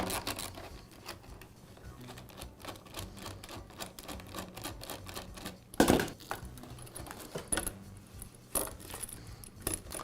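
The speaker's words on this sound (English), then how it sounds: "The clamp passes through the clip, so I'll need to completely unscrew the two sides of the clamp." Metal hose clamp on a Shindaiwa backpack blower being unscrewed by hand, giving small close clicks, scrapes and metallic rattles with one sharper clack midway, no talk.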